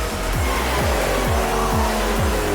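Seat and BMW race cars in a Supercar Challenge race at Zandvoort circuit roar past one after another, engines loud and close with repeated rising-falling passes and upshifts, a continuous racing drone throughout.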